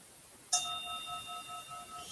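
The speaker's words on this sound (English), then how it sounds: "That was the gong." A meditation gong is struck once with a sharp attack, then rings on as a steady, shimmering tone that slowly fades over the next two seconds in an otherwise quiet room.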